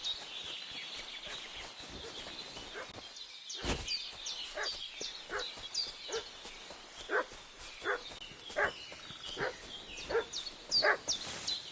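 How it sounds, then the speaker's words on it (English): Dog barking and fussing in a PS5 video game, a run of sharp, fairly close barks and yips that grows more insistent, with faint bird chirps and ambient noise underneath. "What's that dog making such a fuss about?"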